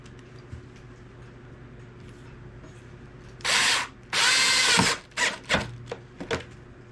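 A power drill drives 1.5-inch screws into a wooden spice rack, two sustained whirring bursts followed by several short trigger pulses, close and loud over a quiet room.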